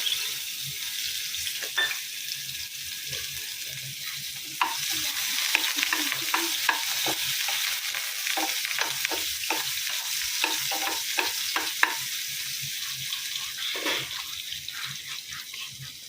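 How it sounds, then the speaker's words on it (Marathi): Chopped onion frying in hot oil with mustard and cumin seeds, stirred with repeated scraping strokes over a steady sizzle, close and continuous, with a brief splash of running water partway through and no talking. "आता तो कांदा तेलात घालायचा"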